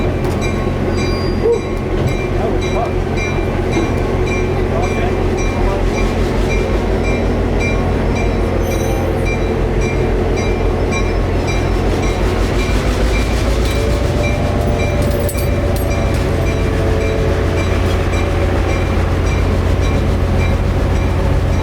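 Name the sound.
CF7 locomotive number 204 running with train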